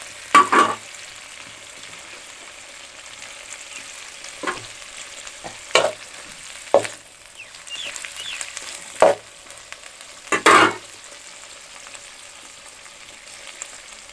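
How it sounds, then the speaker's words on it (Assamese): A steady hiss of dried fish frying in oil, broken by several sharp scraping clatters of a utensil stirring in the pan. "এয়া শুকান মাছকেইটা তেলত ভালদৰে"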